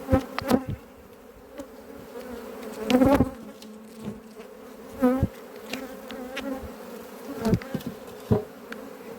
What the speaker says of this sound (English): so that all the flying bees can get out